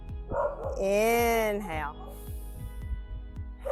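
A dog barks repeatedly in short sharp bursts as a UPS truck drives by outdoors, underneath a voice giving calm instructions, moderately close.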